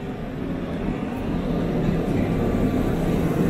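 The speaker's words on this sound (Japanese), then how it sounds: "2400系の電車が京橋駅を出発していきました。" A Keihan 2400 series electric train pulls out of Kyobashi station in a low, continuous rumble that grows gradually louder and fuller as it gets under way.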